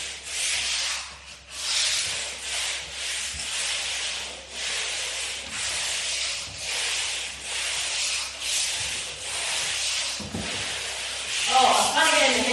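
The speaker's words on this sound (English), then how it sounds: "I got this nifty little radial sander." A small radial sander passes over a rough painted interior wall, a steady close scratchy rubbing hiss that swells and eases with each stroke and carries on nearly without a break.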